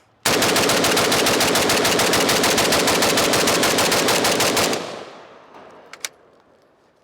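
A cheap 7.62x39 Krink rifle fires one long, loud, continuous burst at close range, a rapid even hammering of rounds for several seconds that stops abruptly. A few faint clicks and a sharp knock follow in the quiet.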